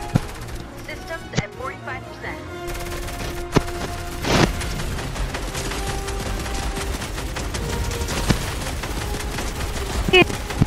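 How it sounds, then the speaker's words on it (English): Gunfire bursts in the video game Fortnite, sharp cracks and volleys scattered over busy game noise and music, with a loud cluster of shots midway and more sporadic reports toward the end. "We're being shot."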